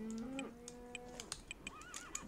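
Minecraft horses neigh and whinny in a video game village, a thin tonal whinny up front followed by a wavering neigh, with soft clip-clop hoof taps scattered across the short, quiet stretch.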